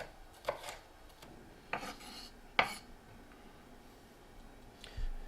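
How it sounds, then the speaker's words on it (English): A knife rough-chops onion on a cutting board in a home kitchen, making a few separate, irregularly spaced cutting strokes with quiet gaps between them and a soft thud at the end. "Just going to do a simple chopping method here."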